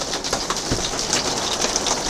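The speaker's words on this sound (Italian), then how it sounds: "finché la grandine è così va anche bene" Hail falls on a camper roof as a dense, continuous patter of small hits, loud and close, with no voices.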